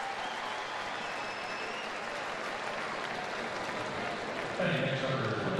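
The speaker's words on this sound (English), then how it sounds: "They still stand and cheer." Baseball crowd at a Yankees at Cubs game standing and cheering after a catch, steady dense roar of applause and voices throughout, swelling slightly louder near the end.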